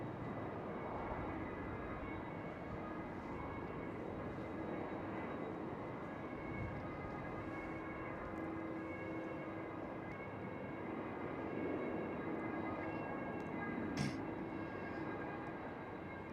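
A KLM Airbus A330 spools up its engines at Schiphol airport, a faint, distant, steady whine and low roar with tonal hums, heard from afar without speech.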